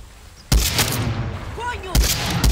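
Two sharp gunshot blasts from a firearm in Far Cry 6, one at about half a second and another near the two-second mark, each with a booming low end, over game ambience and a faint voice.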